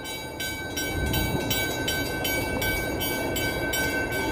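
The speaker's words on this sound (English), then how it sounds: "Hey, look at the train." A train passes close by the Chicago River near Randolph Street in downtown Chicago, giving a loud, steady rumble with a regular rhythmic clatter of wheels throughout. No one speaks.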